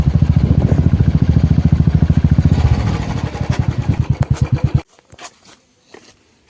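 A motorcycle parked near a hill garden idles with a loud, rapid, steady thumping, then the engine sputters and cuts off abruptly, leaving near silence with a few faint knocks.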